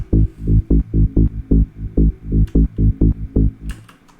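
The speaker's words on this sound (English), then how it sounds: "So when we listen to the sub bass" A deep, throbbing synth sub bass pulses in a steady rhythm of about a dozen even hits, loud and alone, fading out at the end.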